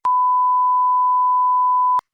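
A single steady censor bleep, a pure electronic tone held for about two seconds, starts and stops sharply with nothing else around it.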